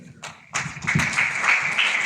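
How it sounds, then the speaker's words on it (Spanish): A university debate tournament audience breaks into applause, a dense wash of clapping that rises suddenly after a brief pause and holds steady. "Fuerte los aplausos, por favor, para el equipo Ratio."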